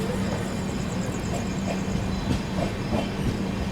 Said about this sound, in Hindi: निकल गई दोस्तों अपनी ट्रेन जो है सासाराम जंक्शन से